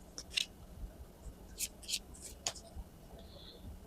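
Tarot fortune cards being drawn and handled, giving a few soft, brief papery flicks and shuffles spaced apart at close range, faint against a quiet background.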